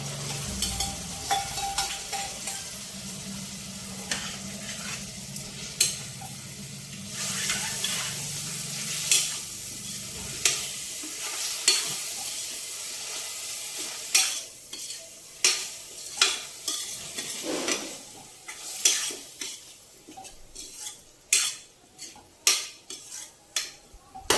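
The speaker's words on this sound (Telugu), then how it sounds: "టమాటా కొంచెం వేగాలండి." Tomato puree made from three small tomatoes fries in a pan for a vegetable curry with eggplant and drumstick, a steady sizzle broken by repeated stirring and metal utensil scrapes that grow sharper and more frequent toward the end.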